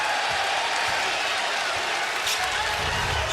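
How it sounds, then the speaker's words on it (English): Basketball arena crowd at a college game, #19 LSU against Louisiana Tech, reacting in a steady, dense roar that fills the whole moment, with faint thumps from the court underneath. "You heard the crowd reaction before"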